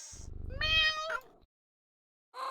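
A cat in the Nancy Drew video game The Deadly Device gives a single drawn-out meow, clear and close, followed by a pause and a brief start of another sound.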